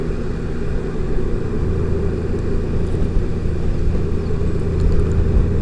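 A 2018 Honda Goldwing DCT motorcycle rides along with its engine giving a steady, loud low rumble, mixed with continuous wind and road noise from close by.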